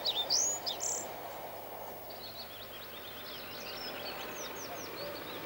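Bearded tits calling in a reed bed beside a railway, a few sharp high pings at first, then faint scattered chirps over a low steady rumble of background noise.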